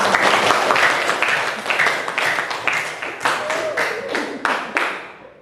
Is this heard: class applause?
yes